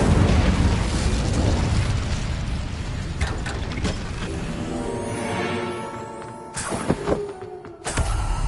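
The Incendio fire spell in a Hogwarts wizarding video game erupts as a loud, roaring burst of flame and rumble that slowly fades, followed by a few sharp crackling pops and a final whoosh.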